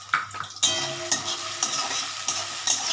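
Potatoes sizzle and fry in a pan of oil with bay leaves, dried red chillies and five-spice seeds, with steady close crackling and a few sharp stirring scrapes.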